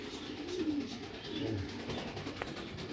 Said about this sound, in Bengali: ফ্লাইকের জন্য বেস্ট কবুতর ভাই।